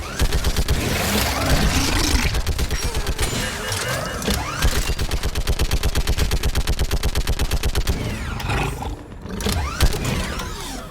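Sustained automatic gunfire rattles in dense, rapid bursts through a Mass Effect 3 battle, loud and close, with heavy blasts and roaring effects mixed in and a brief lull near the end.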